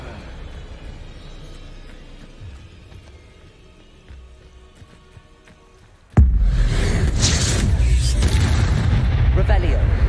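A Confringo explosive spell cast in a wizard video game erupts suddenly as a loud, sustained blast after a quieter stretch, roaring densely up close for several seconds.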